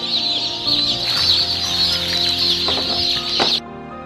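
A flock of chickens clucks loudly and close, their busy overlapping calls running almost without pause before stopping abruptly near the end.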